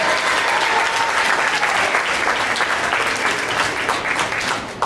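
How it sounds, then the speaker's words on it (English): Steady, dense audience applause fills a scholarship and awards gala hall, many hands clapping at once at an even level before tapering slightly at the end. "A round of applause for Sekou Sadakale."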